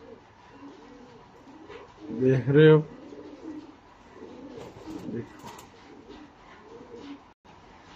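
Laakhay pigeons in Faisalabad coo softly, a few low, rounded calls close by, with one clear burst standing out, while someone talks over them.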